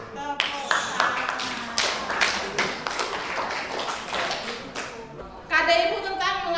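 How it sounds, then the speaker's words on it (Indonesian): Schoolchildren clap their hands together in a classroom lesson: a run of sharp, rhythmic claps, some louder and closer, mixed with children's voices and a teacher speaking, ending in a burst of chatter. "Tepuk tangan."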